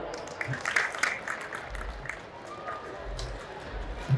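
Hall audience clapping for speaker Ghanshyambhai Mor at a devotional gathering at Sonaldham, Madhada, a moderate scattered applause that stays fairly even, with some voices mixed in.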